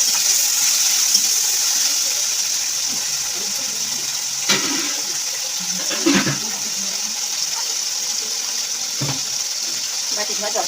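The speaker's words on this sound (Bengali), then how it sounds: "বাটি ধোয়া জলটা দিয়ে দিচ্ছি।" Water rinsed from a bowl is poured into a curry of fried lentil fritters as it cooks, a soft continuous splashing hiss with a few sharper splashes and clinks scattered through it.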